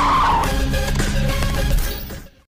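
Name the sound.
car chasing and cutting off another car in an Indian film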